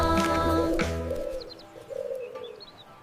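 Birds sing and coo: a soft pigeon-like coo and sustained tone open the passage, then light chirps and tweets follow, moderately loud and close, with no speech over them.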